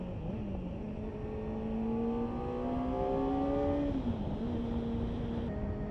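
A Kawasaki ZX-4RR motorcycle engine whines at high revs, the pitch climbing steadily through the gear, dipping with a shift and then holding, heard as a steady tone under wind rush.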